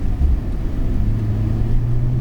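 Porsche 911 Turbo S on the Michelin circuit pulling out of a corner, its engine a loud, close, steady low rumble with a droning tone that rises slightly as it picks up speed.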